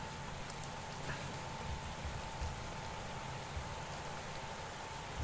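Steady, faint rain in the cycling management game Pro Cycling Manager, a continuous hiss with scattered light drops running evenly throughout, with no voices.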